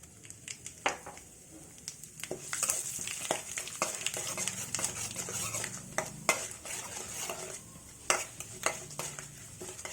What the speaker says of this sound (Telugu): బాణలు తీసుకొని కొద్దిగా ఆయిల్ వేసానండి ఇందులో ఇదిగోండి ఆవాలు జీలకర్ర మినపప్పు